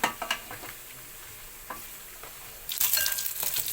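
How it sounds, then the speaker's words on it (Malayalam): Dried beef fries in a pan for a Kerala home-style meal. A few scraping stirs come first over a low sizzle, then the frying swells into a louder, denser crackle near the end, with no voices. "ആ സമയം കൊണ്ട് നമ്മുടെ ബീഫ് വറുക്കുന്നത് അതായത് ഉണക്കിറച്ചി വറുക്കുന്നത് ഓക്കെ ആയി വരുന്നുണ്ട്"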